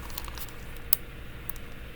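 Small nuts drop into a plastic bag with crinkling and light ticking, a sharp click near the middle and a softer one after, quiet and close among faint rustles.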